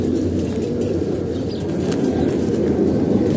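Pigeons in a loft coming down to land during hot weather, soft cooing and a muffled stir of wings under a steady low rumble, heard close and without a break.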